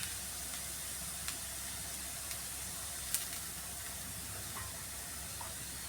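Onions fry with turmeric in a pan for a Kerala-style egg thoran, a soft, steady sizzle and hiss with a few light clicks of a spoon, no talk.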